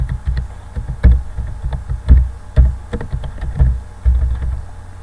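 Someone types the school's title into a merged cell of an Excel spreadsheet on a computer keyboard: quick, irregular clusters of close, crisp key clicks and taps, with no voices.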